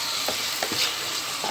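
Onions and tripe fry in a pan with a soft, steady sizzle close by, broken by a few quick scraping stirs, fairly quiet and without talk.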